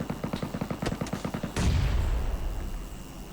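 Gunfire in PUBG Mobile striking the player: a fast run of sharp shots in the first half, then a louder, denser burst of impacts that rolls on and slowly fades.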